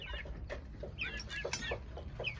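Broiler chicks cluck and peep at a farm, with short, quiet, repeated calls in an irregular rhythm over a low background hum.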